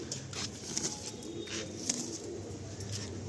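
Pigeons in a loft, including a tournament bird with sky-blue and pink feathers, coo softly and repeatedly at close range, with faint chirps and brief wing flutters in a quiet setting.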